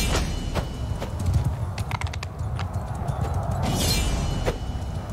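Horse hooves clip-clopping in Mount & Blade II Bannerlord, a quick irregular run of close hoofbeats over a rumbling battlefield bed, with a sharp metallic burst near the end.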